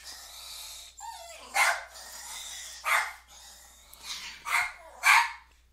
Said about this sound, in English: My little doggy thinks it's really important to bark right now and mess up my video.